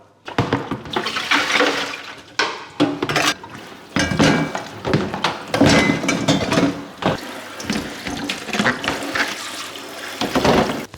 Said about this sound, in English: give it a quick rinse in cold water.